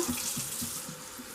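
Tap water pours steadily into a measuring cup while a pickling brine is made, a quiet, close, continuous splashing stream with faint pulsing.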